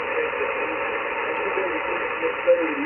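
Steady hiss and static of band noise on a Yaesu FTX-1 receiver in the middle of Houston, a continuous, fairly loud wash with a faint tone near the end.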